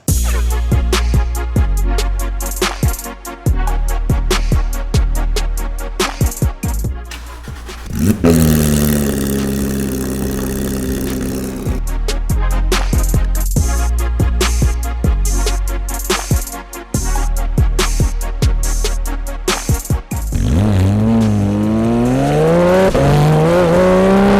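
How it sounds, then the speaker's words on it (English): Loud exhaust of a modified Porsche 991.2 GT3 RS revving and accelerating hard in repeated high-pitched pulls, with a steady cruising stretch and a rising rev near the end, close and with no talk. "let's listen to this exhaust and see what it sounds like."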